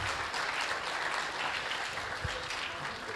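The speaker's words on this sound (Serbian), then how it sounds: "Evo, može, aplauz." Applause from an audience at a developer talk on Android wearables, a dense steady patter of many hands clapping for the full stretch, moderately distant and fairly even in level.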